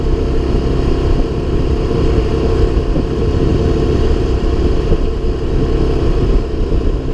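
A 1978 Honda XL175 motorcycle being ridden, its engine droning steadily and loudly from close by at an even pace, with rumbling wind noise throughout and no talking.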